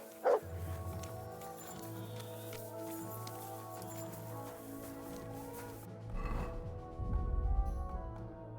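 A dog in the video game Kingdom Come Deliverance 2 gives a single short bark right at the start, followed by quiet in-game ambience and a low rumble toward the end.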